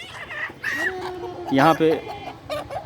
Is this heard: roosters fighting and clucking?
yes